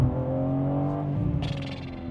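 A BMW M3 Touring xDrive engine drones steadily up close, then climbs in pitch as it revs harder, with a rising whine near the end.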